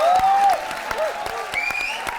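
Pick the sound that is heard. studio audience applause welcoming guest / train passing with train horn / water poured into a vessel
studio audience applause welcoming guest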